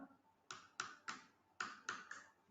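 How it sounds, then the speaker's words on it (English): Typing on a computer keyboard during a live Java coding lesson: six sharp, separate key strikes in an uneven rhythm, close and fairly quiet, with no talk over them. "So here I'm just typing this statement."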